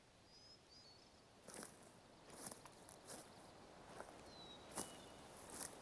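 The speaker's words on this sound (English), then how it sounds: "Could hear his footsteps." Faint, scattered animal footsteps crunch across the ground in theHunter: Call of the Wild, coming as irregular soft steps over a quiet outdoor background.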